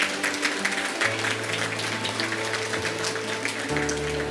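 A school jubilee audience claps in a sustained, dense round of applause at a convent celebration. The noisy texture holds steadily from start to finish, with no voices on top.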